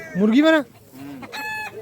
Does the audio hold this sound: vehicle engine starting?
no